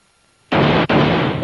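A double-barrel shotgun blast in a cartoon duck hunt, a sudden loud booming report with a second shot right behind it, close and harsh.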